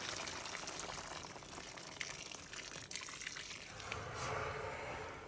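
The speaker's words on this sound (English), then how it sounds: "So I added hot water to cover the meat." Hot water poured over beef in a pot while making Indian beef curry, a faint continuous splashing and trickling of liquid with a soft sizzling hiss underneath, no voices.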